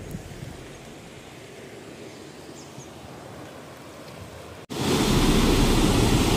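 Water pours from the Nandur Madhmeshwar dam on the Godavari river as a steady broadband rush, which abruptly becomes much louder and closer toward the end.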